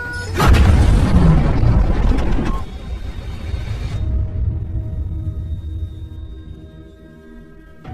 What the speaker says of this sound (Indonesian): seketika bom pun meledak